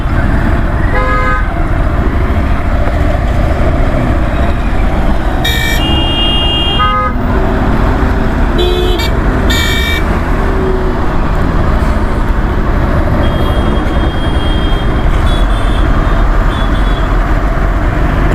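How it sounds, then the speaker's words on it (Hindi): Road traffic jam at a town chowk in Pusaur, Raigarh, Chhattisgarh, heard from a motorbike: loud, constant engine and road roar with repeated car and truck horn toots, some short and some held. "यहाँ पे लग चुका है ट्रैफिक"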